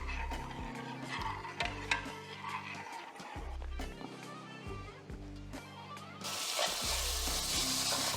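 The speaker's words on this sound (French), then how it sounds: "Et on va porter ça à ébullition" A pot of liquid infused with thyme and Jamaican pepper heats toward a boil, a soft sizzling bubbling hiss under a background music bed, swelling louder near the end.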